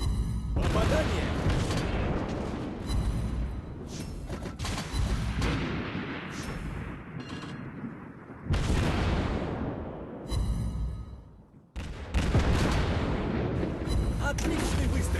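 Naval gunfire from warships in the mobile game World of Warships Blitz: repeated heavy booming salvos with rumbling tails, loud and close, with brief lulls between volleys.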